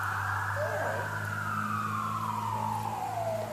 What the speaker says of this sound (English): He got a little spooked from the siren.